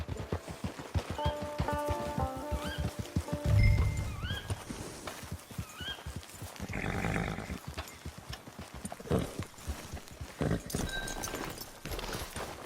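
Horse hooves clip-clop steadily through a game scene, with a horse neighing partway through and ambient music tones layered over the trotting.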